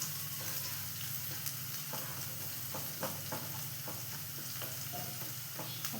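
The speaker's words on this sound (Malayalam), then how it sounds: "ഉള്ളിയെല്ലാം നല്ല അടിപൊളിയായിട്ട് വഴന്ന് വന്നിട്ടുണ്ട്" Onions sautéing in a pan for idli upma, a quiet continuous sizzle with scattered soft clicks and scrapes of a spoon stirring, faint and alone without speech.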